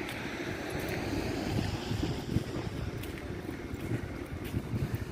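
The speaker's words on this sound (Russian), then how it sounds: "Слышите, какой ветер у нас?" Steady wind rushing and buffeting across the whole stretch in Belarus in January, a broad low roar with gusty rumble and no voices.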